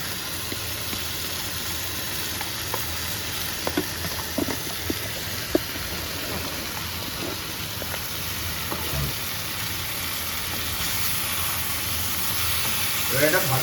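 Spices with salt and turmeric being stirred in hot oil, a steady close sizzle with scattered scraping taps of the spoon throughout, no talking.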